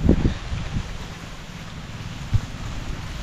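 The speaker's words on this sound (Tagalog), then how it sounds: "mahangin" Wind blowing outdoors in open farmland with ampalaya (bitter gourd) plants, a steady low rumble of gusts buffeting the microphone, with a couple of stronger thumps near the start and another brief gust later.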